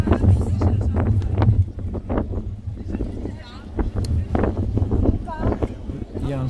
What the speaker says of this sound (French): Il y a un super gros vent ici,